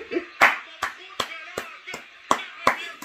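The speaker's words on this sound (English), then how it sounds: "I had to clap for that, fam." Hand claps in a steady series of about eight sharp, evenly spaced smacks, fairly close, with faint background voices between them.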